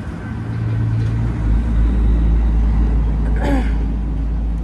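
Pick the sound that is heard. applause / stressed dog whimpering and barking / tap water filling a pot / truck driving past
truck driving past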